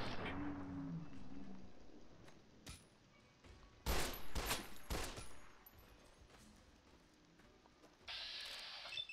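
Gunfire in Fallout New Vegas: a few sharp, loud shots in quick succession midway, with a clattering burst near the end over low background noise.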